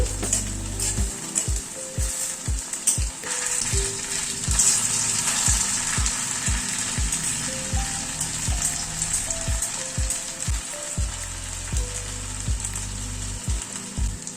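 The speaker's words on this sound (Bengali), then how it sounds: "তেলটাকে ভালো করে গরম করে নিয়ে গ্যাসের ফ্লেমটাকে মিডিয়ামে করে দিয়েছি, দিয়ে তারপরে বলগুলো ভাজছি।" Potato and carrot balls fry in hot oil over a medium gas flame, giving a loud, steady sizzle and crackle. Regular low knocks of a utensil stirring or turning them punctuate the sizzle, and no voices are heard.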